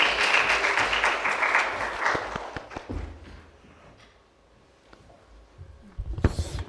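An audience at a children's council policy event in Changwon applauds to welcome a city council committee chair. Loud clapping fills the first few seconds and fades, leaving quiet footsteps and a few thumps as she walks up.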